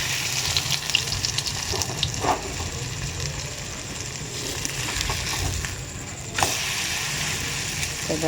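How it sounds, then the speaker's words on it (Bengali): Gola roti, a flatbread made from batter, frying in a pan with a steady low sizzle and faint crackling, close and continuous, with a couple of soft knocks of utensils. "গোলা রুটিগুলো ভেজে নিই"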